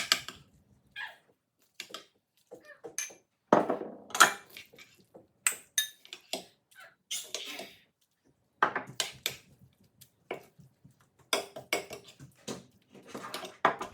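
Funeral potatoes are served onto plates in a home kitchen with sharp, intermittent clinks and scrapes of utensils against dishes, close and clear with quiet pauses between.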